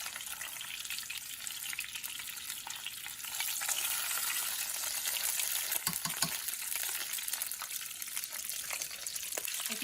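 Chicken pieces fry in a pan for gluten-free soo guy, a constant bright sizzle and crackle that swells a little louder midway, with a couple of low bumps as the pan or pieces shift.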